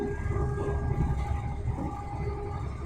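Inside a train on a double-track line between Larbert and Alloa, a steady low rumble of wheels on rails with a faint whine, continuous and fairly loud, no talk.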